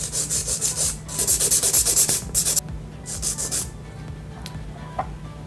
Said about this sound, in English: I'm going to use the 100 grit side, and we're going to come in on the lateral sides.